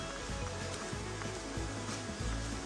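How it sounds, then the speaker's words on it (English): Heavy rain pours steadily and loudly on a wet Appalachian Trail hiking day, a dense continuous hiss with no one speaking. "It's just pouring rain."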